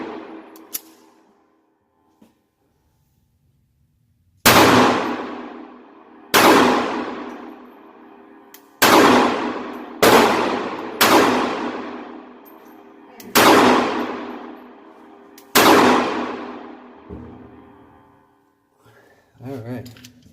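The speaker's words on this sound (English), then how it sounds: "couple more rounds down range with the Ruger LCP2" Seven sharp gunshots from a Ruger LCP2 pistol at a shooting range, loud and spaced irregularly a second or two apart, each ringing out with a long decaying tail.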